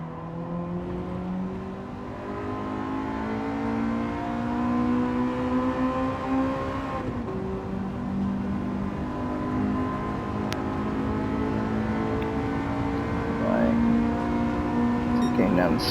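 A race car engine revs hard on a circuit, its droning whine climbing and falling through gear changes, loud and continuous with a voice talking over it.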